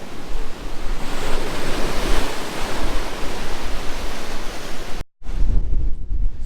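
Ocean surf breaking in heavy sets at Sint Maarten during Hurricane Dorian, a loud continuous roar of crashing waves with wind buffeting the microphone and a brief dropout near the end.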